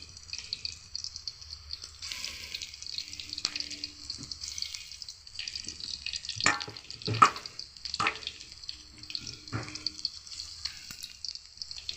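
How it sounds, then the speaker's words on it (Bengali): Chicken pakoras fry in oil, village style, with a soft, steady bubbling sizzle at close range, broken by a few sharper clinks and spatters partway through and no talking. "চলুন এবারে ভালো করে ভাজা হোক"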